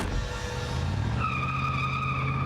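A car arrives with tires skidding: a steady, sustained squeal over engine and road rumble that rises to a sharper pitch partway through, loud and close, with no voices.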